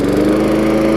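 An old MTD push mower with a 3.5 horsepower engine roars close and steady as it is throttled back up, with a continuous buzzing drone.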